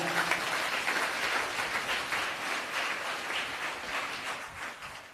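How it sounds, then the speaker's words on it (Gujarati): A large crowd at a temple gathering claps steadily and loudly throughout, a dense, continuous wash of applause with no talking over it. "આ બે ચાર તાળી ના ચાલે, હાથ ઊંચા કરીને તાળી પાડો બધા"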